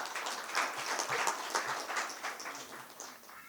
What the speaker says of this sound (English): Can we give them a round of applause for this session?